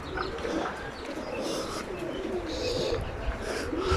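A tumbler pigeon coos faintly amid steady outdoor background noise, its soft repeated low notes blending into the ambient hiss.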